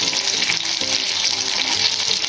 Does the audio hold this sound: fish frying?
yes